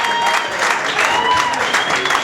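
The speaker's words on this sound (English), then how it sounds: "big round of applause for all of the comics that have performed tonight." A comedy show crowd applauds steadily, dense clapping filling the room, with some voices and cheers mixed in.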